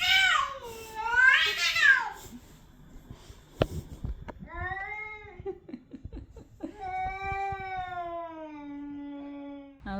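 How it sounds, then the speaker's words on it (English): Neighbour's cat meowing outdoors in a garden, a few drawn-out, rising and falling meows spaced across the clip, close and fairly clear with quiet pauses between calls. "Neighbour cat wants to be friend."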